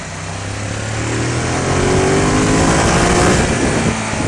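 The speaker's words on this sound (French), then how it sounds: "il respire fort ce Testa Stretta 1198" Ducati Monster 1200 S 2017 with its 1198 cc Testa Stretta twin revving up, a loud, close, rising engine note that swells and holds steady with no talk over it.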